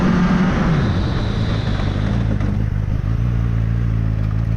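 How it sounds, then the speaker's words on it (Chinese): A KOVE 450R four-cylinder street motorcycle slows under braking from about 60, its engine droning loud and close, dropping in pitch then settling to a steady low hum amid wind rush. "我们再试一下刹车啊"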